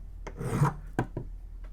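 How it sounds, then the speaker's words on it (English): A metal file rasps across machined metal edges to remove burrs, giving a few loud, close strokes with short gaps between them and no talking. "Let me get a file on some of these edges because I can feel some burrs still in here"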